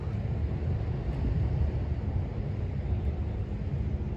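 A ferry leaves Friday Harbor, heard from under a large pier as a constant low engine rumble mixed with water wash and wind, steady and moderately loud without pause.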